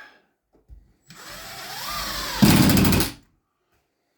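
A power drill drives a screw into a half-inch drywall patch: one continuous whirring run that rises in pitch, then a louder, harsher final burst as the screw seats, followed by silence.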